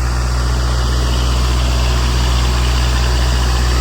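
A double-clutch farm tractor engine idles steadily with both levers down, a loud, constant low drone with an even throb and a mechanical hum, with no other sounds.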